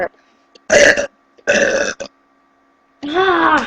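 Loud, close burps in three long separate bursts, each lasting under a second with short silent gaps between them.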